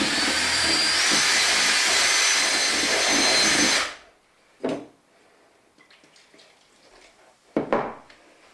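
An electric mixer whirs loudly and steadily through oat cake batter with the consistency of gloss paint, then cuts off, followed by quiet clunks and scraping of a bowl.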